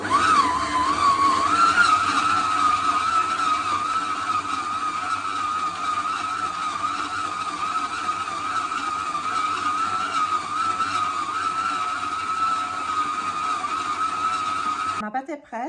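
Stand mixer running at high speed, kneading a gluten-free sourdough bread dough, a steady loud whirring hum with a constant pitch that holds throughout and cuts off abruptly at the end.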